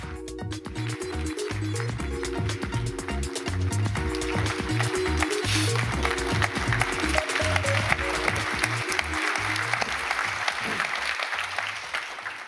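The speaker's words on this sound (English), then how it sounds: "please welcome Dr. Ray Kurzweil with a big hand of applause" Sustained audience applause at a business forum in Japan welcoming Dr. Ray Kurzweil, with stage music playing underneath and the clapping continuing steadily throughout.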